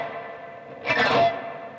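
An electric guitar played through a heavy reverb effect pedal rings out with one washy, distorted swell that blooms and then trails off in a long echoing tail.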